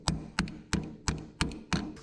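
Six sharp metallic taps strike the corroded battery cable terminal on a 1991 Chevrolet Squarebody dually truck with a fuel-injected big block, evenly spaced about every third of a second, close and distinct.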